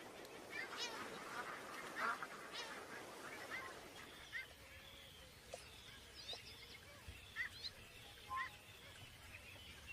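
Seabirds on Alaska's summer coast calling in a flock, honking and squawking cries that are loud and overlapping at first, then sparse and more distant over a quieter background.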